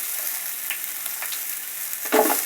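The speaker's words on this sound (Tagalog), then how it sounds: "igigisa na natin ang ating onion" Onion sautéing in a pan for pork dinuguan, a constant close sizzle of hot oil with a few light stirring scrapes and a louder hiss near the end.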